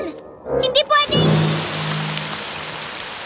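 Rain hisses steadily across a surface as a broad wash of sound in an animated My Little Pony cartoon episode, following a few brief voices and tones at the start.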